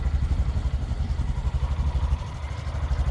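Honda Grom motorcycle running during a rear brake test, a close, throbbing low engine putter with a steady pulsing rhythm, idling without voices over it.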